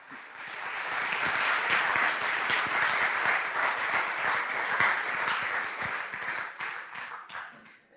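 Sustained applause from an audience welcoming the host at an astrophysics day event, a dense wash of many hands clapping at steady loudness that fades slightly toward the end.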